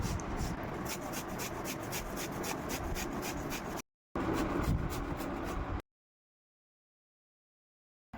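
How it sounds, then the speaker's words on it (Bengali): Ash gourd is rubbed against a kitchen grater in fast, rhythmic rasping strokes that are close and steady. After a brief pause the grating resumes, then stops into silence. "এবারে গ্রেটারের এই সাইডটা দিয়ে আমি ঘষে নেব চাল কুমড়োটাকে।"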